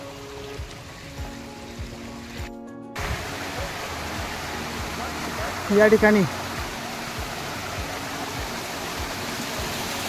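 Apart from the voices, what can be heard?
strong flowing stream water on the trail at Karnala Fort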